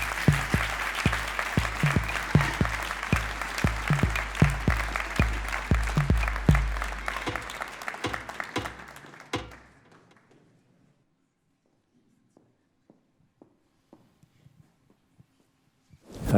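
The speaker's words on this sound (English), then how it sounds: "Please welcome Pitt with a big round of applause." A conference audience gives a keynote speaker at a national youth science contest a steady round of applause, dense and fairly close, which stops abruptly around nine seconds and is followed by a few faint knocks in near silence.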